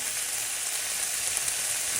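Steady, dense sizzling of meat frying in a hot pan, close and continuous with no voices.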